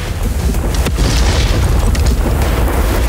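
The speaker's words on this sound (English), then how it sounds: "They engage them with direct fire on the move capability." A Patria NEMO armored vehicle fires direct-fire rounds on the move at the Lohtaja firing range, a loud, dense, sustained booming roar that fills the whole stretch without any break or talk.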